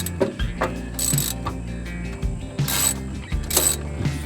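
A wrench works loose a stuck bolt on a fuel pump, giving clicking ratchet and metallic creaks in several short bursts, close and fairly loud, with no talking.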